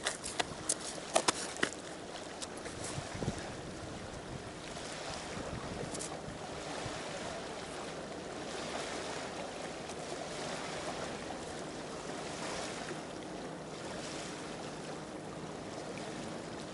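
Waves on the Volga river wash in a steady outdoor rush, mixed with wind buffeting the microphone and a few sharp knocks near the start.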